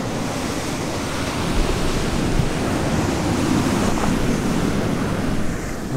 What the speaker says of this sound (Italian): Già le onde hanno cancellato tutte le tracce.